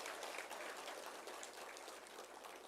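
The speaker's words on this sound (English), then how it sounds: "Ladies and gentlemen, let's show her a bigger round of applause" Applause from the audience at a certificate distribution ceremony, a dense, even patter of many hands clapping, heard at a distance and fairly faint, with no speech over it.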